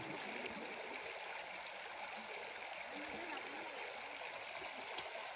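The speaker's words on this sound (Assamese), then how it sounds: "এইখন নদীখন পানী অকণমান বেছি আছে সেইকাৰণে শ্বু কভাৰ লগাব লাগিব" A river in Dzukou Valley, Nagaland, flows over rocks in a constant close rushing babble with small splashes, faint and uninterrupted.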